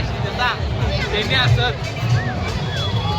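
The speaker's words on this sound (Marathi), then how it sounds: "जबरदस्त गर्दी मित्रांनो" Crowd hubbub at a Ganpati festival procession in Jalgaon, a loud, close wash of overlapping voices and chatter with a few higher calls rising out of the steady babble.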